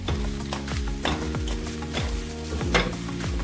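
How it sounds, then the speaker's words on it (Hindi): Sabudana khichdi being stirred in a hot pan with the back of a spoon, a steady sizzle under repeated scraping, clinking strokes that come in a loose rhythm, close and fairly loud with no talking. "अब मैं इसको हिलाऊंगी 1 स्पून के बैक साइड से, ताकि ये अच्छे से"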